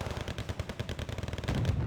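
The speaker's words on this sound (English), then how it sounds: "just for pounding away their big bloody 125mm cannons" Rapid, rattling bursts of cannon fire from 125mm tank guns in the video game Wargame Red Dragon, dense and repeated, fairly faint and growing slightly louder toward the end.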